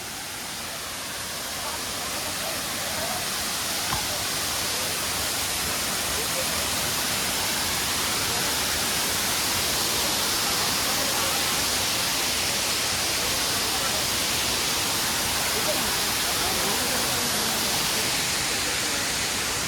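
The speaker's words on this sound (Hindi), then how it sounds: "यहाँ झरने की आवाज़ के कारण मेरा आवाज़ नहीं आ रहा होगा।" Kuyemari waterfall near Keshkal in Chhattisgarh roars as a steady, loud broadband rush of falling water that fills the whole stretch, with a person speaking faintly beneath the noise.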